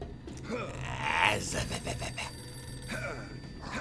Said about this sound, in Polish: Ten dzwoniący telefon z kolei kojarzy mi się z Matrixem.